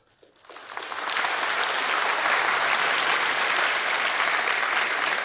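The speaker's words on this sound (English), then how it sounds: "please give a round of applause for our sponsors and exhibitors" Conference attendees at an opening ceremony break into applause for sponsors and exhibitors, swelling from a few claps into a loud, dense, sustained roar of many hands.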